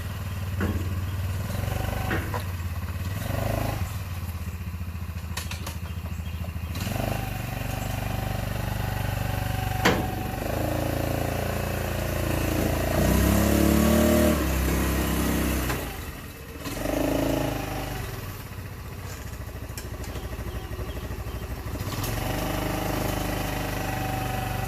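A Yamaha four-wheeler ATV, part of a flooded-quad rebuild, runs close by in a steady idle with a few mild revs, its low engine drone continuous throughout.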